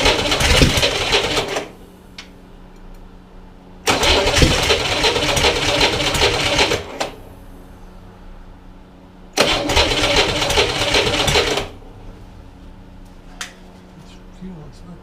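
A refurbished Corvair engine with timing out of adjustment and a leaking carburetor is cranked three times in loud bursts of a few seconds each. Quieter gaps fall between the attempts, and voices talk in the background.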